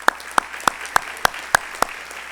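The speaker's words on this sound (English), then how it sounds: "let's give them a round of applause." Clapping at a State of the City civic event held at a casino. Seven sharp, evenly spaced claps ring out close by with a steady rhythm, and the room behind them stays quiet.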